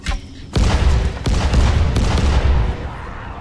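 Several heavy booms hit in quick succession, each followed by rumbling debris, loud and close: explosive arrows detonating in the video game Dying Light.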